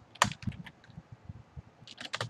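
Typing on a computer keyboard while coding a Unity game script: quick irregular clusters of crisp key clicks, fairly close and quiet, with no talking.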